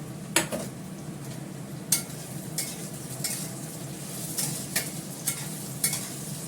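Fried onions being sautéed in a pan for biryani, a continuous gentle sizzle broken by repeated sharp scrapes and taps of the spatula on the pan at irregular intervals, close up with no voices.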